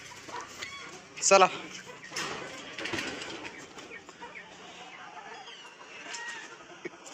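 Chickens cluck and call close by on a goat and poultry farm, with one loud burst of squawking followed by steady lighter clucking, as people talk in the background.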